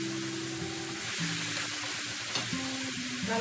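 Muhammara mixture of chili paste, tomato and honey stir-fried in a pan, giving a steady close sizzle with scraping stir strokes throughout and no talk.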